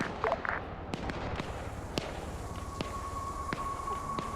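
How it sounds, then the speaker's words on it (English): Mortar fire in a military video game set in a Russian 2020 campaign: several sharp, fairly distant bangs spaced irregularly over a low rumbling background, with no talk. "It might be another mortar."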